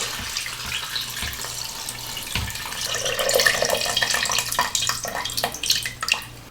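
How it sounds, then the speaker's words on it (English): Water pours steadily into an electric pressure cooker pot filled with oxtail, spices and sugar for Thai beef noodle soup, a continuous close splashing that grows louder and fuller as the pot fills, with no talking. "we're gonna add water to the max line."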